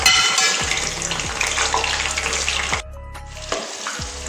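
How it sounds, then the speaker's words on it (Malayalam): Twelve green chillies sizzle in hot oil for a spicy green chicken curry, a loud, close, continuous frying hiss that briefly drops to a quieter crackle before surging again. "ഇനി നമുക്ക് ആ എണ്ണയിൽ തന്നെ പച്ചമുളകും കൂടി പൊരിച്ചെടുക്കാം."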